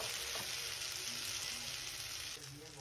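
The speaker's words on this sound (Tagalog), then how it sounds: "nagluluto ng tortang talong dahil tinatamad ako mag-ihaw" Eggplant omelette (tortang talong) frying in a pan, a steady close hiss of sizzling oil that holds at an even level and softens slightly near the end.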